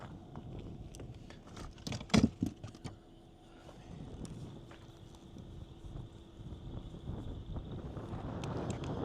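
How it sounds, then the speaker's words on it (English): Gusty wind during a severe weather threat in Wisconsin buffets the microphone in a steady low rumble, with a few sharp knocks and thumps near the start, loud and close throughout. "Whoa, it's windy. The wind is trying to take my tripod away."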